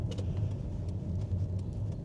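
A 2000 Toyota Crown Royal Saloon's non-turbo 1JZ-GE 2.5 liter inline six with VVTi runs as a steady, low, even hum from inside the car, with a faint jingle of keys at moments.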